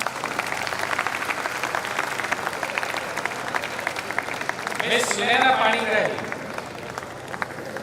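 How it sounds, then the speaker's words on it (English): An audience at a university convocation in Bhubaneswar keeps up continuous, even clapping while a voice reads out a graduate's name over the applause. "Please keep on clapping."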